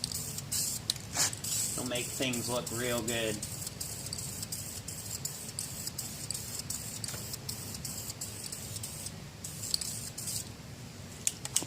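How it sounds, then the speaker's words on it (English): Aerosol spray paint hisses in repeated short bursts while a push mower is repainted black, close and crisp, with someone talking briefly over the sprays. "I always try to go a little bit on the heavy side where the rust is with this spray paint"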